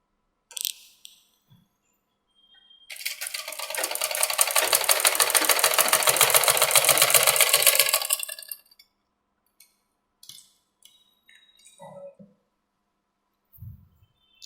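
A sewing machine stitching a princess-cut blouse runs in one continuous burst of about five seconds, a rapid, even mechanical whir, preceded and followed by scattered handling clicks and small knocks of fabric and parts.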